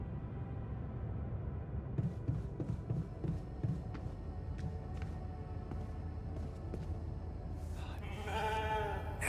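A sheep bleats near the end of a PC video game scene, after a run of rhythmic footstep-like clicks over a busy ambient background.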